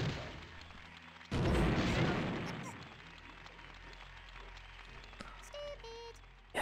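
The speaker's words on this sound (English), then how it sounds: "the only explosion in this game, oh, besides the deaths" A video game explosion from Worms Armageddon bursts loudly and close, then decays into a long rumbling wash, followed by scattered small pops and game tones.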